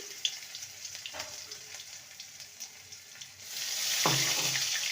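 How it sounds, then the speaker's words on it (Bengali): Ginger and green chili paste fries in hot oil with spices in a pan, a steady close sizzle that swells into a louder, brighter hiss partway through, with occasional scraping stirs. "ভালো করে কষিয়ে নেব আদা কাঁচা লঙ্কাকে ভালো করে"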